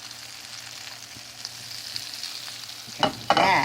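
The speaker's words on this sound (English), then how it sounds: "here are the arepas in the frying pan in butter, and it smells so good" Arepas con queso frying in butter in a pan give a steady, soft sizzle throughout, with a few louder scraping or stirring bursts near the end.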